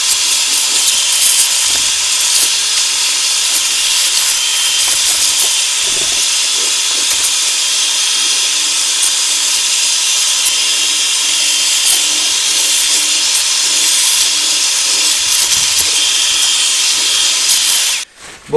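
Carpet shampooer working stains inside a Porsche Cayenne, a loud, steady suction hiss that runs unbroken before cutting off at the end.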